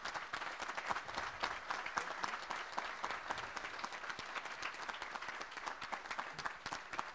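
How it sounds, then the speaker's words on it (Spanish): Sustained applause from the audience for the experimental station team at the ceremony swearing in INTA's new national director, steady dense clapping throughout. "Quiero pedir un aplauso para el equipo de la estación experimental"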